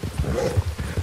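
Horse hooves clip-clopping in the video game Red Dead Redemption 2, a steady rhythmic gait of several close, distinct thuds alone with no talk.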